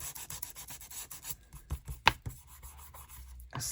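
A paper junk-journal page-flap tag has its edge sanded in quick, close scratchy strokes that thin into sparser rubs, ending with a louder scrape.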